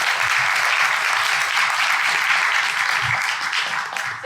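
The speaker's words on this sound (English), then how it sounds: "Let's give him a clap for Parth." Conference audience applauding a speaker at a Rails developer event, a full even burst of many hands clapping for a few seconds before thinning slightly.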